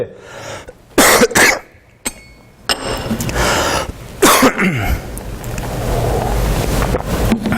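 A preacher with a hoarse, strained throat gives several harsh, close coughs in quick bursts during a church sermon, followed by throat clearing and breathy noise against a rushing background.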